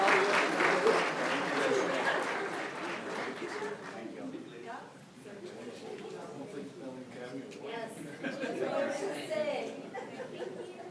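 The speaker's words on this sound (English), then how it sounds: "Let's thank MNK Architects with a big round of applause" An audience at a school district board of trustees meeting gives a sustained round of applause, steady dense clapping that gradually thins out, with chatter and a little laughter underneath.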